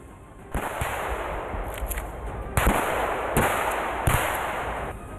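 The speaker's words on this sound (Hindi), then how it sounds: "बर्फ में छुपे रूसी सैनिक हथियारों समेत बाहर निकले और गोलियां बरसाने लगे" Bursts of gunfire from Russian soldiers emerging from snow during a military exercise: several loud, sharp volleys, the first starting after a brief lull and others following at irregular intervals, each ringing out over a sustained noisy background.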